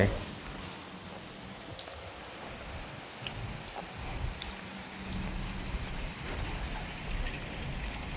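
Steady rain falls on a side street in Thailand, a dense even hiss of drops close by that continues unbroken, with faint occasional voices beneath it.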